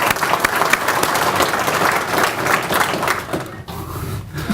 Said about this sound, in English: So if I can give them a round of applause,